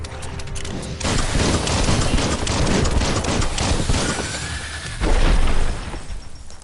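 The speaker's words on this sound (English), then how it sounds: "Bullets everywhere." Dense rapid gunfire with bullets flying in the video game Biomutant, a loud continuous barrage of cracks and thuds that swells even harder near the end, with no talking.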